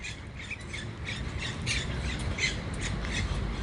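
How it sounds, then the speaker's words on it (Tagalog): Birds squawk and call from mountain trees on a farm, with repeated harsh squawks and chirps over a steady hiss of background noise, moderately near and without talk. "Tapos, naririnig yung mga ibon."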